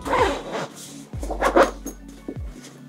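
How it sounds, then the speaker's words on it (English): A laptop case being zipped shut, giving a couple of brisk zipper pulls close by, with small handling knocks and rustles between them. "Zip it up."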